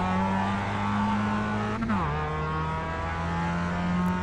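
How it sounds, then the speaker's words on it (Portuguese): A Mazda MX-5 race car in the iRacing simulator at Okayama Short holds a steady, buzzy engine drone, dips briefly on a gear change, then climbs again with continuous loud revving. "Adoro o som desse carro"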